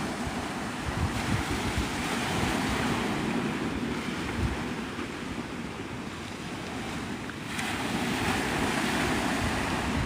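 Ocean surf washes steadily onto Navarre Beach, Florida, at sunrise as a dense, continuous roar, with heavy wind buffeting the microphone and no voices.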